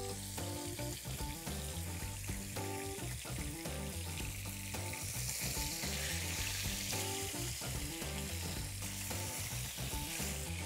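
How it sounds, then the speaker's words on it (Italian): Cod fillets browning in hot fat in a frying pan give off a dense, steady sizzle up close, constant and unbroken with faint crackles throughout. "Adesso li faccio rosolare per un paio di minuti, così diventeranno belli dorati"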